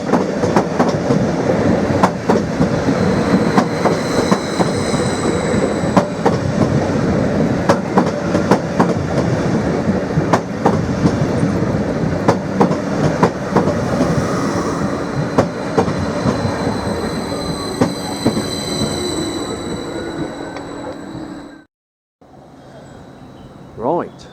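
A Class 745 electric train pulls into a station platform with a loud, continuous rumble, rhythmic clickety-clack of wheels over rail joints and a high squeal on top, and voices talk over it before a brief dropout.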